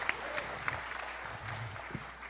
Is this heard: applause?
yes